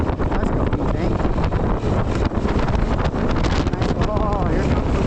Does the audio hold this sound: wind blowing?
yes